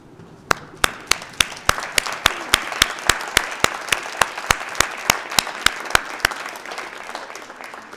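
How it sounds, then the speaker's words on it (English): Graduation ceremony audience standing to applaud family and friends: dense, steady clapping from a large crowd, fairly close and loud, with sharp individual claps rising above the wash and no talk over it. "I invite you all to stand up, turn around, and salute and applaud family and friends."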